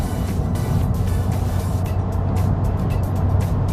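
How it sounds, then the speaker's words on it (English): Mazdaspeed 6 sedan in mint condition, tuned to about 300 whp, cruising at 2800 RPM near 130 km/h, gives a steady, loud cabin drone of engine and road noise that holds even for the whole stretch, with no talking. "I'm cruising at 2800 RPM at about 130 kilometers per hour right here."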